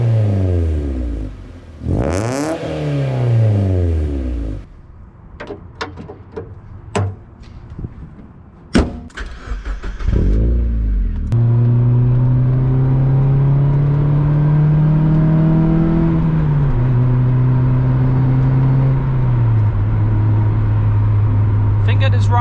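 Mazda MX5 MK2 with a loud aftermarket exhaust back box, heard from inside at night: door clunks and rustling give way to the engine revving, then holding a steady loud drone with gear changes.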